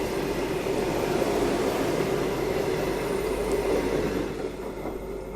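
A train on the Varanasi to New Delhi line rumbles steadily past at close range, a continuous loud roar of wheels and carriages that eases slightly near the end.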